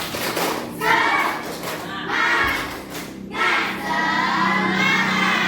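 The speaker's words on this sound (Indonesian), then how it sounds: "kita akan tepuk semangat terlebih dahulu. Tepuk semangat." A school class performs a rhythmic spirit clap in unison, several bursts of group clapping with shouted chants, close and loud in a classroom.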